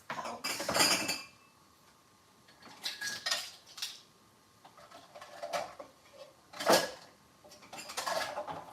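Metal spoons clink and rattle as they are pulled out and handled in a home kitchen during holiday cooking, several bright bursts of clatter separated by short pauses, close and fairly loud.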